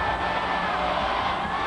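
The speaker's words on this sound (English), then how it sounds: "Listen to the roar of that crowd." A New Year's Eve crowd as the ball drops, a distant dense roar of cheering and shouting, steady and muffled on worn VHS tape.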